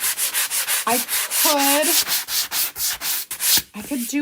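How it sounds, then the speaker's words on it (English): Sandpaper rubbing over a painted wooden sled in steady back-and-forth strokes, loud and close, with a brief spoken word partway through. "let's see what this looks like with a little bit of sanding"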